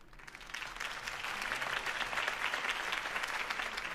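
Crowd applause in the video game Batman: The Telltale Series, the clapping swelling after a brief moment into a dense, sustained wash of hands.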